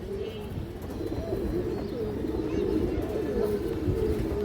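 A large silver-necked female pigeon and others coo softly in a steady, low rolling rhythm nearby, with faint background noise and no clear talk.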